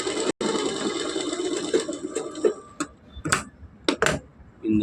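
A sewing machine stitches fabric in a steady mechanical whir, broken by brief pauses and a few sharper clicks toward the end, heard close and alone.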